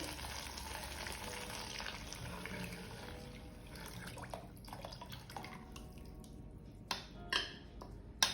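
Wheat flour fries in ghee in a pan, a quiet, steady sizzle with faint crackles and a few sharper clinks of stirring near the end.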